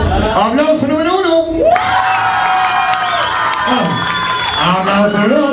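Club audience in Santiago at a nightlife party cheering, whooping and shouting loudly in a sustained roar, with voices and a shouted announcement heard over the crowd throughout.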